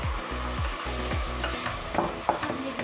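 Rhythmic scraping of a spoon through semolina for helva in a hot frying pan, with a steady sizzle underneath, close up.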